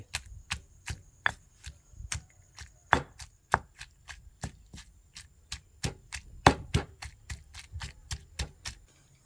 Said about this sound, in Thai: ตำพริกตำหอม ละเอียดแล้วนะครับ